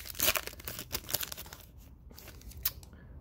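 Foil wrapper of a 2019 Panini Father's Day trading card pack being ripped open up close, a burst of crinkly tearing and crackling at the start that thins into softer rustles and one last sharp rip.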